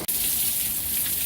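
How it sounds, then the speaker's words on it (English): Heavy rain pours down during a storm with 36 mph winds, a dense, steady hiss of drops close by that fills the whole stretch after a brief cut at the start. "it's raining big time right here"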